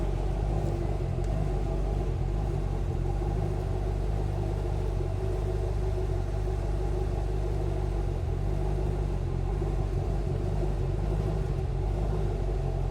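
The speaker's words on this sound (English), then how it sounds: "A little rumble coming out of those Flowmasters." A 2012 Chevrolet Camaro SS V8 idles through Flowmaster mufflers, giving a deep, steady exhaust rumble heard up close and alone, with no voices over it.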